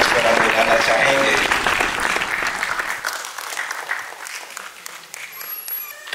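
Audience applause at a Sikh Arts & Film Festival event in India, loud dense clapping that thins and fades over the last few seconds, with a voice faintly over it.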